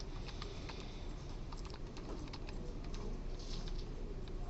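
Computer keyboard presses come as quick, light clicks in an irregular run against a steady background hum while pasting with Control V, faint and close.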